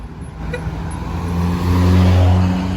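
Cars passing on a busy road, a steady close swell of engine and tyre noise that builds louder as a vehicle goes by, with no talking.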